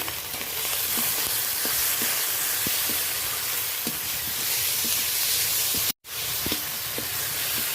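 Ginger paste being stirred into onion and tomato frying in a pan, a steady close sizzle with soft scraping stir strokes throughout, broken by one brief silent gap.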